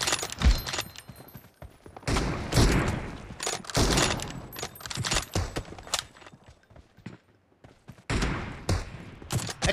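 Gunfire in a PUBG Mobile one-versus-one team deathmatch: repeated sharp shots and short automatic bursts, loud and close, broken by brief lulls, with no talking.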